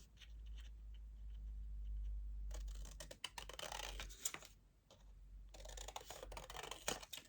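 Scissors snip paper for a shabby-style scrapbook album in short, quick, close cuts, with a steady low hum early and brighter crisp rustling later; quiet overall, no voices.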